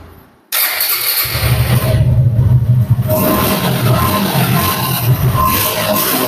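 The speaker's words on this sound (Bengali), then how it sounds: "এখন দেখাবো হচ্ছে বাইকের সাউন্ড কোয়ালিটি এবং সবকিছু বিস্তারিত" A used Suzuki motorcycle engine starts after a brief quiet moment, then runs at a steady, close, loud idle with a slight rev.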